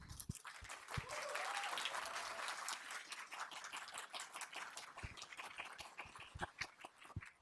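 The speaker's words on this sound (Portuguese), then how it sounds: "eles merecem uma salva de palmas muito forte" An audience at a Harvard and MIT lecture on Brazilian funk breaks into loud, sustained applause, many hands clapping densely before thinning into scattered claps near the end.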